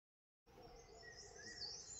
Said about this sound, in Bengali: পাখির কিচিরমিচির আওয়াজটা শুনলেন?